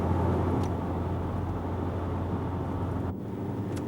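Car cruising at around 60 mph on the A140 in Norfolk, a steady low engine and road rumble with wind noise, constant and close throughout.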